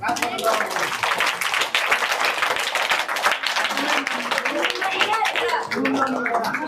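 A group of children claps together in a dense burst of applause while voices talk over it.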